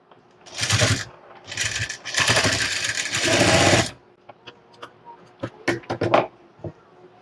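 A sewing machine stitches piping onto a blouse in bursts, with several loud runs of stitching close by followed by short clicks and knocks of the fabric and machine being handled.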